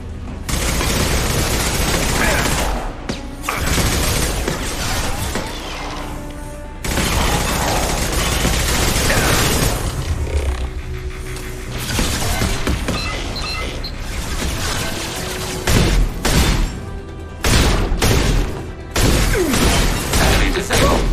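Automated turret firing in the Mass Effect 2 video game, a loud, dense stream of rapid gunfire and mechanical booms with brief pauses, continuing for about twenty seconds amid game effects.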